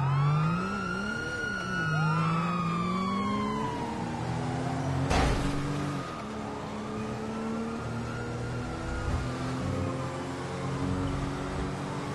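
Police sirens in the video game GTA V wail and sweep up and down as several cop cars close in, loud and near, with engine revving underneath and a sharp crash midway.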